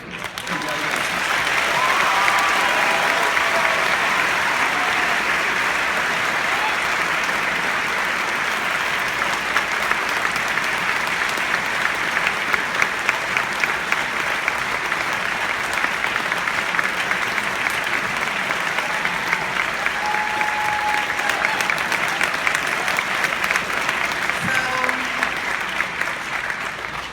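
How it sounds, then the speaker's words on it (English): A graduation audience at the School Without Walls claps after a commencement speech. Dense, sustained applause from a large crowd continues steadily for the whole stretch without dying down. "Didn't mean to stop the clapping."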